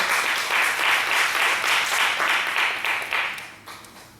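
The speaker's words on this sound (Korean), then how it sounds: "박수를 주십니다." A church congregation claps together in a warm, dense burst of applause that holds steady for a few seconds, then thins and fades toward the end.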